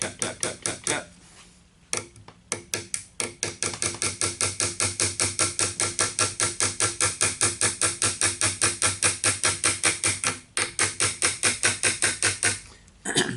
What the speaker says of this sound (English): This is a number 4, like 1 1/4 inch. Tap, tap, tap, tap, tap, tap, tap.